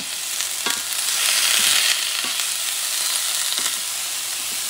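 A poblano pepper sautés in a hot pan with a steady, loud, close sizzle and hiss, broken by a few soft scrapes and stirs, with no talking.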